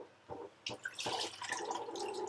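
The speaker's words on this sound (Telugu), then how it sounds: "ఇంకొక గ్లాస్ పోస్తున్నా" A glass of water is tipped into a pot of Telugu-style chepala pulusu (fish curry). A couple of sharp splats lead into a close, continuous gurgling pour lasting over a second.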